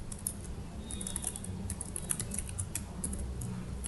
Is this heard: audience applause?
no